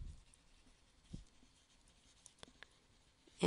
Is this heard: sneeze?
no